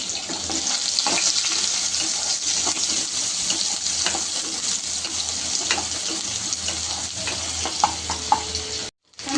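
Sliced onions frying in a pan for crisp berestā, a loud close hiss and crackle that holds steady with a few small pops, then cuts out briefly near the end; no one speaks.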